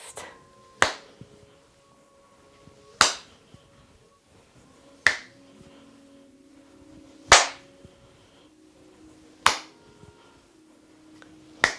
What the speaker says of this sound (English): when we come to the center, we clap and twist.